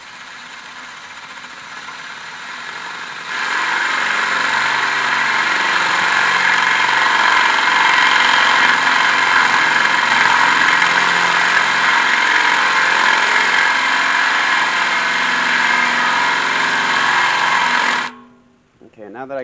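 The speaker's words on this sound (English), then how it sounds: "So we're going to go ahead and drill this." An electric drill bores a hole through a pot for a fountain fitting, a loud steady whine held for about fifteen seconds after a quieter start, then cutting off abruptly.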